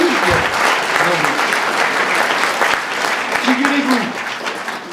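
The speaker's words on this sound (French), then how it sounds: "applaudissez-moi quand même" Loud applause from a comedy audience runs throughout, with a voice and some crowd noise audible over it, tapering slightly near the end.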